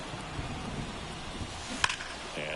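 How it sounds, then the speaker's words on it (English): Steady rain hissing across a baseball stadium in an MLB video game, a continuous broadband wash with a brief sharp knock near the end and a faint tonal hum entering at the close. "This rain is not letting up."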